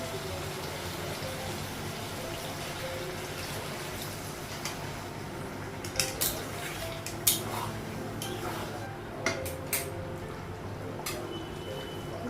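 A metal lid comes off a cooking pot on a gas stove in a home kitchen, giving a few soft clinks and light knocks over quiet background hiss.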